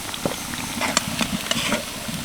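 Chana dal koftas fry in hot oil in a wok with a close, busy sizzle, broken by a few sharp pops and stirring clatters over a couple of seconds.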